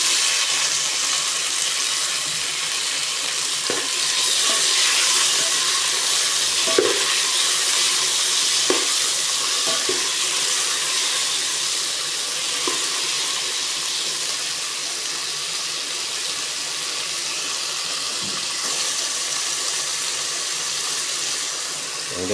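Tomatoes sizzling in a pan for squid adobo, a steady bright frying hiss held throughout with occasional soft stirring knocks, close and loud, no speech.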